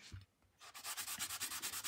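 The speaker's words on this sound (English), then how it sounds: "So what we can do is just use the sanding sponge" Rhythmic back-and-forth rasping of a sanding sponge rubbed on a Samson block plane to buff out a low spot, steady quick strokes after a brief pause, close and clear.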